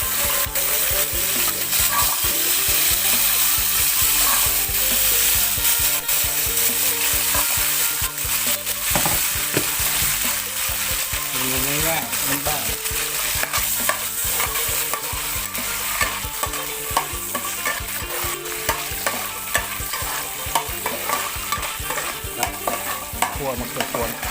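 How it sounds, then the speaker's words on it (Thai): Pea eggplants stir-fry in hot oil with a loud, constant sizzle, broken by repeated scraping stirs of a spatula against the pan. "เดี๋ยวเชฟหนุ่มขอ คั่วมะเขือพวงพวงหน่อย"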